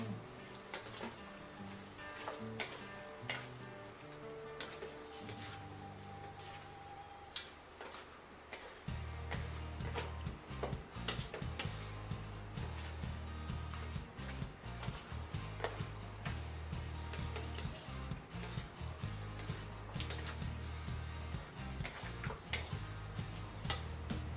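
Pork caldereta made with spare ribs being stirred in a pan, a steady sizzle with rhythmic ticking scrapes of the spoon against the pan, growing louder partway through, with no talking.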